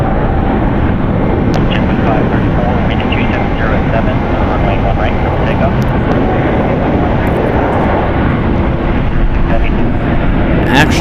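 A JetBlue jet airliner roars steadily at takeoff on the runway at San Francisco International Airport, a loud continuous engine rumble filling the whole stretch with faint higher whine on top.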